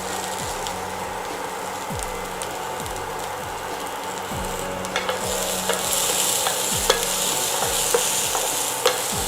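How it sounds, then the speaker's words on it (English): Sprouts and corn sautéed in a pan, with a steady close sizzle and repeated scraping stirs of a spatula against the pan, the frying growing a bit louder partway through. "Keep sauteing it for around 10 minutes till the sprouts and the corn are well cooked"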